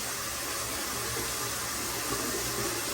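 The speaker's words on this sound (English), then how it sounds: "I also kind of like squeeze the bottom of the rag so the water doesn't come out as much" Water streams steadily into a sink from a wrung-out rag, a continuous close splashing and trickling wash with no pauses.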